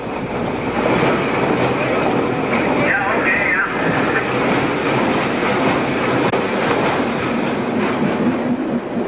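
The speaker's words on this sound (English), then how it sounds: "Just after we pass Skull Hill, the train slows for Millertown Junction" A Newfoundland Railway train slows on the line approaching Millertown Junction, a steady loud rumble of wheels and cars on the rails with faint squealing tones, heard from on board, with a voice faintly underneath.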